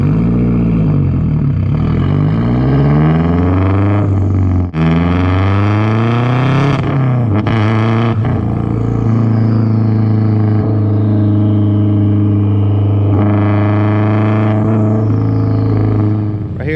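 Loud exhaust of a 2004 Subaru WRX STI recorded close to the tailpipe while driving, engine rising and falling through revs and gear changes with a steady deep drone between pulls.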